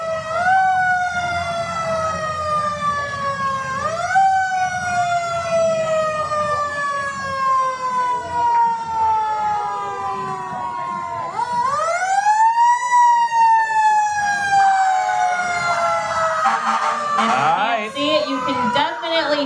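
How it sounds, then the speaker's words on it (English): Loud wailing emergency sirens of first responder vehicles in a holiday parade rising and falling repeatedly, close by, with a second siren joining partway through over road rumble. "Hear it, listen to those sirens."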